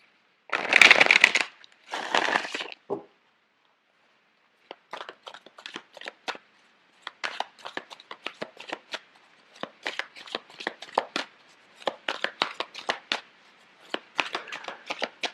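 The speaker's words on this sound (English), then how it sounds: "I'm going to shuffle the cards out for you." Tarot cards are shuffled close by: a couple of dense riffling bursts, then a long run of quick, crisp card snaps and flicks with no talking.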